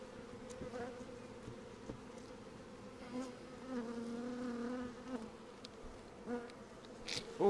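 Honey bees buzz steadily during removal of a hive from a chimney, a dense continuous drone close by with occasional louder passes near the listener.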